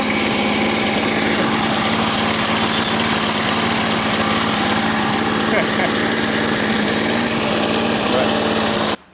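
A small lawn mower engine runs steadily at a constant idle-to-moderate speed, a loud continuous mechanical drone with a strong low hum, close to the microphone, cutting off abruptly at the very end.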